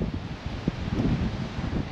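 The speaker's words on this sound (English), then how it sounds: "Ooh, it's windy." Wind at a beachfront, a steady rushing gust buffeting the microphone with low rumbling noise and faint rustling, alone without voices.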